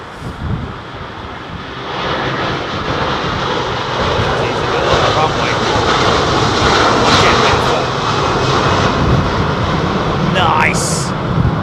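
SriLankan Airlines Airbus A330 departing Heathrow, a loud sustained jet roar building and holding as it climbs away, with wind buffeting the microphone and people talking underneath.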